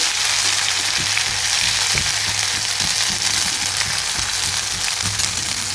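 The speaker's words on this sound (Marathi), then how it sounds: "छानपैकी तेल तापलेलं आहे मोहरी घालूया त्यानंतर जिरे त्यानंतर लसूण अद्रक पेस्ट" Mustard seeds, cumin and garlic-ginger paste hit heated oil for a bhindi stir-fry, giving a loud, steady close sizzle with scattered small pops and crackles from the seeds.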